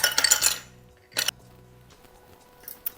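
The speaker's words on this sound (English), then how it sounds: "Okay, fresh ice into the glass." Fresh ice cubes dropped into a cocktail glass for a Mai Tai, a quick cluster of bright clinks at the start, another short clatter a moment later, then faint ticks over quiet background music.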